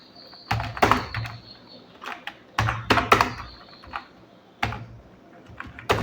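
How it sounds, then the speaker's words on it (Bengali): Bengali text being typed on a computer keyboard, in bursts of rapid key clatter separated by short pauses, close and moderately loud. "এবার বাংলা লেখার জন্য আবার Ctrl+Alt+V প্রেস করে বাংলা লিখব"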